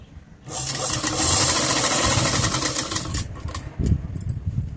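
Sewing machine stitching a zipper pocket onto pants with an elastic waist, running steadily in a dense, continuous whir for several seconds, then slowing with a few clicks and thumps near the end.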